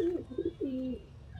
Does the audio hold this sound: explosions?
no